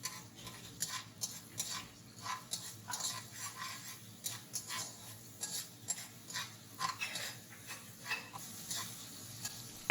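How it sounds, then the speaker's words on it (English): Minced garlic stir-fries in vegetable and sesame oil, a soft sizzle broken by irregular clinks and scrapes of a utensil stirring the pan, close by and fairly quiet. "And stir fry for 1 minute."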